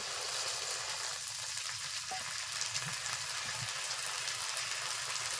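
Water poured into a hot pan for Bengali katla fish kalia sets off a steady, moderately quiet hiss and sizzle, with a few faint stirring knocks underneath.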